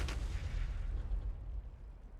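Artillery turrets in Factorio fire a distant, muffled low boom that rumbles and fades over about two seconds, faint and alone.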